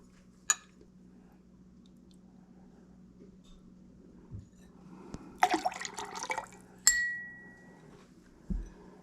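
Persian lime juice is poured into a metal cocktail jigger for a Zamboanga Punch, giving a brief splashy trickle between isolated clinks and taps of bar tools in a quiet room.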